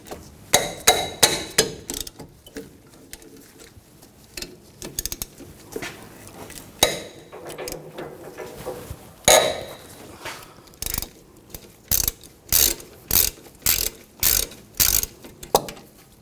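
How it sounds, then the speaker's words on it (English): A hand ratchet fitted with a 14mm socket loosens the front brake caliper bolts on a 2003-2008 Subaru Forester, bursts of rapid clicking pawl strokes, close and crisp, with metallic clanks between them and no talk. "I'm going to use a 14mm socket."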